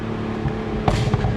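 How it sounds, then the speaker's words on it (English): A 2023 BMW Z4 M40i's inline-six idles with a low rumble, then a sharp exhaust pop and a few crackles burst out near the end, close and fairly loud. "This car just keeps farting and crackling and burbling from the exhaust"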